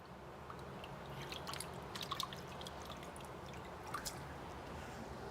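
Water trickling and dripping while aquarium filter media is rinsed, a faint steady wash with scattered small splashes and drips, close and quiet, with no voices.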